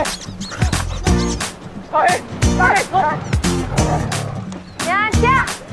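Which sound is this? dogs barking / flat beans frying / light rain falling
dogs barking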